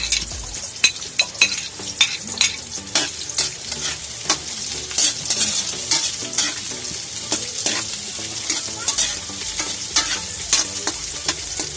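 Onion and then garlic sautéing in hot oil in a pan, a steady bright sizzle with frequent scraping stirs and clinks from a utensil, close and fairly loud throughout.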